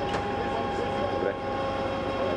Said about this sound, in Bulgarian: сега дава път на влака, който трябва да премине през тунела